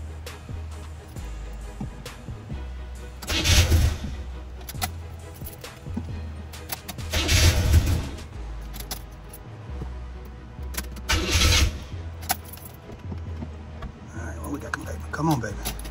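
A Chevrolet Chevelle with a 454 engine cranks in three long, rhythmic bursts, the starter churning loud and close against a steady low rumble, while someone talks between the attempts.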